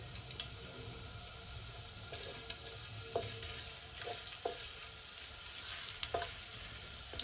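Fresh ginger fries in coconut oil at the start of a chicken and cabbage stew, making a fairly quiet, continuous sizzle punctuated by intermittent light taps of stirring.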